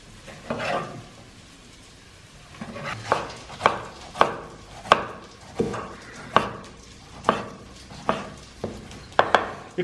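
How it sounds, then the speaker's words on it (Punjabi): A knife chops tomatoes steadily on a cutting board, a run of sharp knocks about every half second, close and clear, with faint kitchen noise between strikes. "ਲੈ ਆਪਾਂ ਟਮਾਟਰ ਕੱਟ ਲਈਏ"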